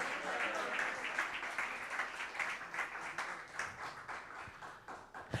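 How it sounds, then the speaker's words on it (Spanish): Congregation applauding during a church worship service, a dense, steady wash of many hands clapping that holds throughout with slight swells, fairly loud and close-filling. "regálale fuertes ofrendas de aplauso"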